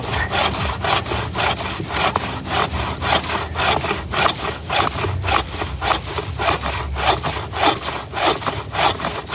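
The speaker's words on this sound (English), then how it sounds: "I'm pretty good at sawing" A hand saw cuts cedar wood with steady, rhythmic back-and-forth strokes, loud and close, about two strokes per second with no talking.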